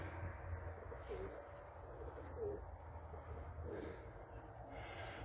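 A newly bought white front-crested pigeon released in falling snow, giving a few soft low coos spaced a second or so apart, faint against a quiet outdoor background.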